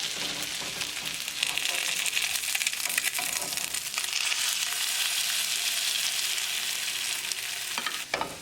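Coconut-crusted salmon fillets sizzle steadily in a pan of butter and oil after being flipped, a loud close crackle with occasional scraping and shifting, no talking.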